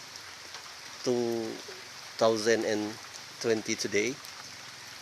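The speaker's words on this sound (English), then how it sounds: "You can see it's raining now" Steady rain falls outside a house on the island of Sumatra, a constant soft hiss of drops underneath a voice speaking in short phrases nearby.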